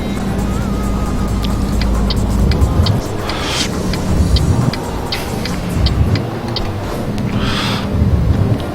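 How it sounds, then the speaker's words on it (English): Peterbilt truck engine in Euro Truck Simulator 2, a steady low diesel drone on European roads with rising and falling revs and occasional clicking ticks, continuous and fairly loud throughout. "driving an American truck around European roads and whatnot"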